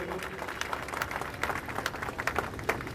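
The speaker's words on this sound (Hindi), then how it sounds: "इनके लिए जोरदार तालियां बजनी चाहिए।" A crowd claps steadily at a police passing out parade, with dense, continuous applause heard from a distance and a few sharper claps standing out.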